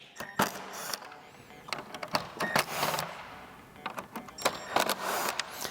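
Screws being taken out of the factory light bezels on a Buzz Overland, heard as close, scattered sharp clicks and short whirring bursts at an uneven rhythm, fairly quiet, with no voices.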